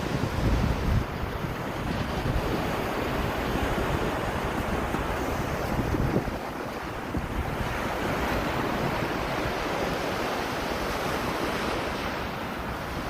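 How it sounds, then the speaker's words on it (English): Waves from Lake Michigan wash continuously onto the Chicago shore on a November evening, a loud, broad rushing surge with heavy wind buffeting the microphone and one stronger break near the start, with no voices. "Hey, listen to the water."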